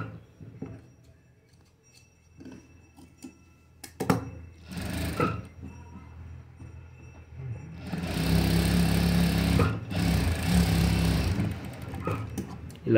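A sewing machine stitching a blouse seam, with a few short bursts of motor whirr early on, then a long, loud, steady run close by, pausing briefly before continuing.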